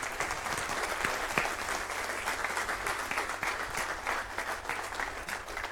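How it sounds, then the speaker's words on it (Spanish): A congregation at a church Bible study bursts into continuous applause, many hands clapping in a dense, lively wash with a few sharper claps near the start, sustained for nearly six seconds without speech. "Entonces denle un aplauso al Señor."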